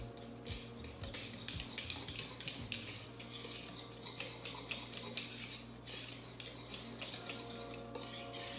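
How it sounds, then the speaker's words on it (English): A whisk beats flour, baking powder and salt together in a bowl, making quick repeated scraping taps and soft metallic clinks at a steady rhythm, fairly quiet and close, with no talking. "I'm just going to whisk those ingredients together like that"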